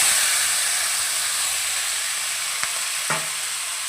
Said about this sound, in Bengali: শিম আলু আর পেঁয়াজকালি একসাথেই নেড়ে চেড়ে নেবো